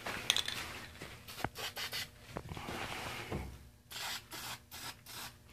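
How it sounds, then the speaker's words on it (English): A nearly empty spray paint can spritzes onto furniture being painted and glazed, giving short, soft hissing bursts among faint rubbing and handling noises in a quiet room. "Just a little spritz there, and it splattered"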